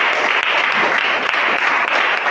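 Loud, dense applause fills a church service, steady and continuous for a couple of seconds with no talking over it.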